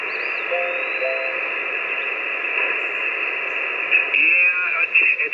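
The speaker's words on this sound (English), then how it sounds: "I got a lot of electrical noise here where I'm at" Amateur radio reception through an end-fed antenna, a steady loud hiss of electrical noise with a constant hum and faint whistling tones, and brief crackling bursts near the end.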